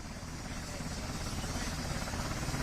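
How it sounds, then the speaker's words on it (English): A helicopter that has just landed churns out a steady, dense rotor and engine rumble throughout, moderately loud and unbroken. "We have another helicopter that just landed here"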